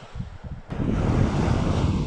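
Surf washes onto a sandy beach at Kinnaree Beach in Thailand. A quieter rush gives way to a sudden louder surge of breaking water mixed with gusty wind noise, with no voices.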